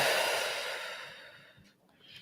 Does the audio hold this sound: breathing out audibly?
yes